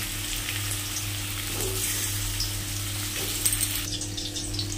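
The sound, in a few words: potatoes frying in oil in a pan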